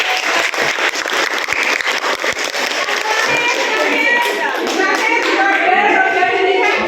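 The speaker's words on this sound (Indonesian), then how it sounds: "beri tepuk tangan" A room full of people applauding, dense continuous clapping that carries on steadily throughout, loud and close.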